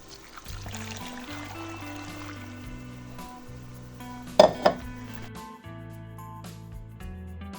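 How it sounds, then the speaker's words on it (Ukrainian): Baking soda solution poured over apple slices in a bowl, set against steady kitchen clinks of dishes and utensils, with a couple of sharper knocks partway through; no talking. "Заливаю цим розчином содовим яблука."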